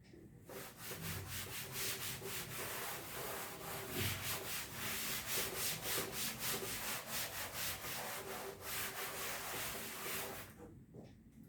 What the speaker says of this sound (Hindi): तो इसको रब कर देते हैं